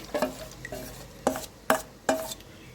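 Spice paste being added and stirred in a pan while cooking dahi paneer, a few sharp metallic scrapes and clinks of a spoon against the pan in an irregular rhythm, close and clear.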